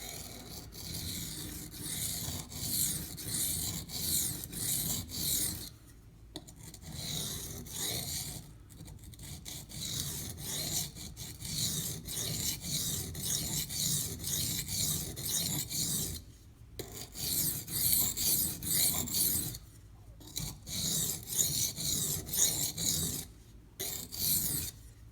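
Knife blade rasped back and forth on a Schrade Old Timer sharpening stone, close and soft, in repeated runs of scraping strokes separated by brief pauses.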